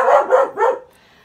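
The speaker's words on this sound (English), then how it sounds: "Sorry about my dog." A dog gives three quick, loud barks close by, and they fade into quiet.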